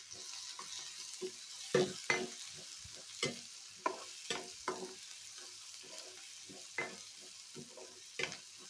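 Frying and stirring in a pan with turmeric, before brinjal pieces go in: repeated scraping stirs over a steady low sizzle, close and moderately loud, with no voices.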